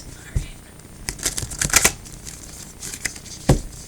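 Large goddess oracle cards being shuffled by hand, a run of crisp papery riffles and slaps in uneven bursts, close and moderately loud in a quiet room.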